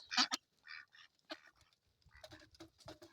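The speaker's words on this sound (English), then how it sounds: "I apologize for the noisy ducks. It's feeding time for the ducks." Ducks quack in noisy, scattered bursts at feeding time, close by, with short pauses between the calls.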